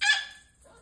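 A parrot gives a short, harsh, honking squawk that imitates a dog's bark, followed by brief quiet.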